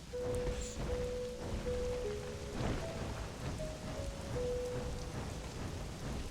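Steady rain falls in the video game Pokémon Pokopia, a dense, even patter with soft rumbles beneath, while thin musical tones from the game's soundtrack sit over it.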